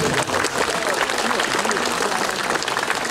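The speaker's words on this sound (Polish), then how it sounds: "Wielkie brawa, pan Dionizy Kołodziejczyk." Sustained applause from a crowd, steady and fairly loud throughout, with a few voices mixed into the clapping.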